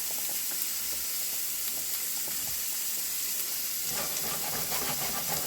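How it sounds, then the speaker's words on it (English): Meat sizzles steadily in a pan with onion and garlic, a continuous close hiss of frying with small crackles and a stirring sound picking up toward the end. "And we're going to brown them all up the same way."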